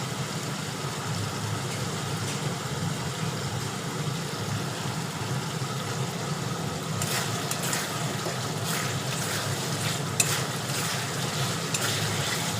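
Cauliflower florets and potatoes simmer in spice masala in a pan, giving a steady low bubbling and sizzle throughout, with a few louder scrapes and stirring clatters near the end and no talking.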